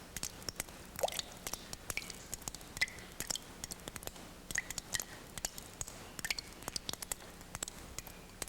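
Water drips onto rock inside a limestone karst cave in Southeast Alaska, with scattered sharp plips and plops at an irregular rhythm, faint and echoing in a quiet space.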